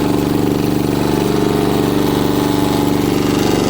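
A 1960s Terra Mite mini bike's small engine runs loud and steady at high revs, a fast even putter with a constant drone and no talk.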